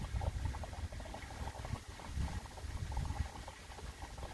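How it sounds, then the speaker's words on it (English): Gasoline is poured into an empty fuel tank on a 1999 Jeep Cherokee XJ two-door, making a continuous burbling, gurgling liquid rush that runs steadily from start to finish, close by, with nobody speaking. "So since this tank is empty, just gonna put maybe a gallon of fresh gas in there."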